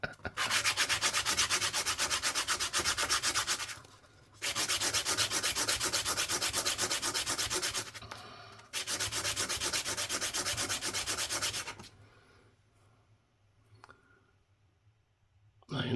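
Fresh sandpaper scrubs the edge of a bronze ring made from a British half penny coin, in three long, loud, steady rasping bouts broken by short pauses, ending in near quiet with faint handling.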